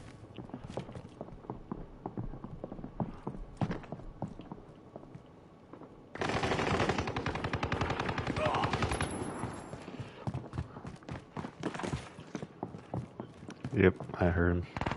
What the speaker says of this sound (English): Is that you shooting or him?